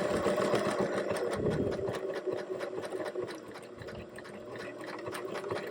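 A sewing machine stitching a buttonhole, its rapid mechanical chatter running steadily with a fast regular needle rhythm, close and moderately loud, slowing slightly toward the end.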